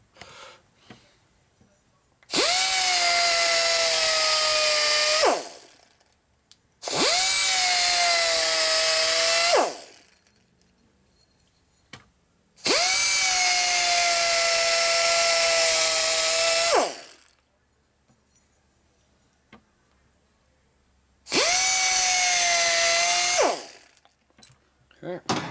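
A power grinder works on the oil pump primary oiler adjuster screw of a Harley panhead in four loud, close, high whining bursts of a few seconds each, separated by quiet pauses.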